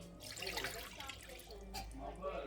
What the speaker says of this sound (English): I'm going to go ahead and add 2 cups of water